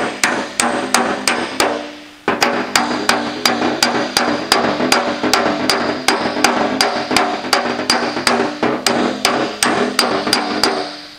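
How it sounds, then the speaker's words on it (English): A hammer strikes sheet metal held on a dolly in fast, even, ringing blows, loud and close, with a brief pause near the start before the steady rhythm resumes; no one speaks. "time I hit it, I'm right on the dolly, and my impacts, I can see all the footprints"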